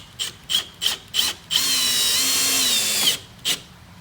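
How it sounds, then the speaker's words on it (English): A power drill drives screws back into the grab handle of a Sun Dolphin American jon boat: several short bursts of whirring, then one sustained rising whine for about a second and a half, and a final brief burst, loud and close. "all you do is just insert the screws back in"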